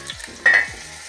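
Pork knuckle frying in oil in a pan, prepared Bavarian style, makes a soft close sizzle with a brief louder hiss partway through, along with low knocks of a utensil against the pan.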